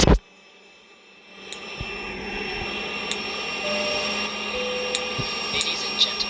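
A DC-10's jet engines in the Roblox game Cabin Crew Simulator hum on the runway, a faint, steady whine that swells gradually after a short clunk at the start and continues alone to the end.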